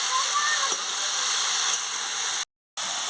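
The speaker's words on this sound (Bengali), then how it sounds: "এবারে ভালো করে নাড়িয়ে নিচ্ছি" Spiced cabbage curry with carrot, eggplant, tomato and potato stirred in a hot pan gives a steady, close, loud sizzling hiss that runs on evenly, broken by one brief silent gap.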